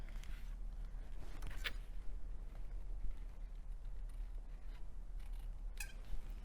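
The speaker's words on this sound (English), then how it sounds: "All I'm gonna do is follow the shape of my letter J and just trim those edges off." Scissors trim the edges of a paper craft letter J, a few faint crisp snips standing out against a quiet room hum, with no talk.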